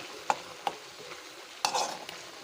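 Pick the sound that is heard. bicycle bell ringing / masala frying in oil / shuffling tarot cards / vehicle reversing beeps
masala frying in oil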